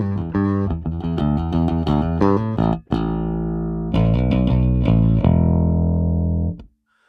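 A bass guitar plays a clean bypass tone, a run of plucked notes and short phrases with sustained low harmonics, a brief gap midway, then ringing notes that fade out at the end.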